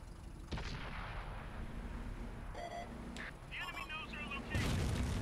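Tank gun fire in the video game World of Tanks, a few sharp booming shots with metallic impact clangs over constant rumbling engine noise, while someone talks briefly.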